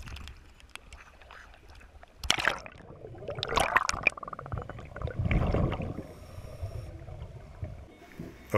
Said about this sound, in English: I still need to let all the air out of the BC so I could get to the bottom.